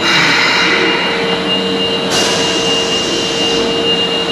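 A train running on rails during a spring trip around Osaka, a steady loud rumble with sustained tonal whine throughout, continuous and close, no voices.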